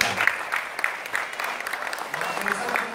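Audience applause at a marketing seminar, a dense patter of many hands clapping at moderate distance, continuing throughout with a voice speaking over it.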